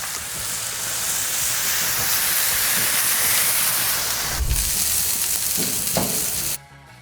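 Burger patties grilling, a steady loud sizzle and hiss throughout with a couple of brief knocks near the end before the sound cuts off abruptly.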